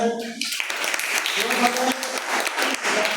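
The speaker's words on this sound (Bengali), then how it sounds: "একটা হাততালি হবে।" A class claps together, a burst of mixed clapping that rises after a brief voice and carries on for a few seconds while someone keeps talking over it.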